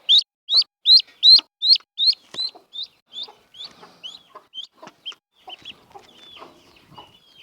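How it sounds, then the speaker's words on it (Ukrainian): A series of high, sharp peeping calls from a duckling, loud and rapid at first, then growing fainter and more scattered with soft rustling. "Дуже миле і вредне каче."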